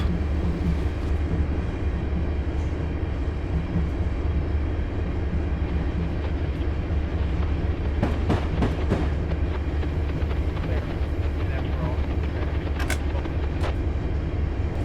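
A train in Train Simulator 2015 coasting on rails with power idled on the Johnstown to Altoona route near Horseshoe Curve, producing a steady low rumble with faint rail clicks and brief higher rattles.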